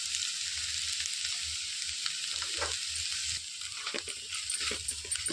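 Okra frying in a pan with peanut powder, a continuous close sizzle with soft scraping and stirring sounds throughout.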